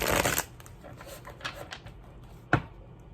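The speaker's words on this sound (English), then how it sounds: "Let's do one shuffle for them." A brisk riffle of tarot cards opens, followed by softer shuffling and a sharp final snap of the deck, close and clear.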